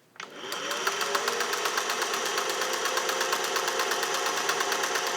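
A restored all-metal Singer 401A vintage sewing machine runs a long, wide zigzag stitch, starting up quickly into a steady, rapid mechanical clatter of needle strokes, close and continuous with no voices.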